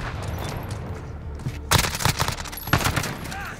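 Bursts of gunfire ring out in the video game Modern Warfare during a Hardpoint match with an MP5, two loud clusters of rapid shots over quieter background game sound.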